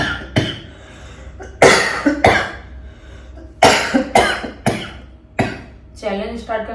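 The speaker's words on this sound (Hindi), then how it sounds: "चैलेंज स्टार्ट करने से पहले क्या खांसी आ रही है?" Several sharp, loud coughs burst out in an irregular series, close to the listener, with a bit of throat clearing and background chatter between them before a horror challenge.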